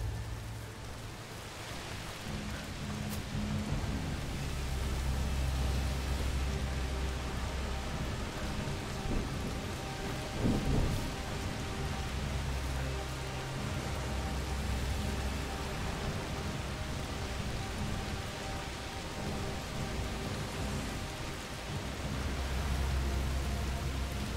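Steady rain in the video game A Plague Tale: Requiem hisses throughout with a low rumble of thunder underneath, a brief louder crack near the middle, and a faint music-like hum in the background.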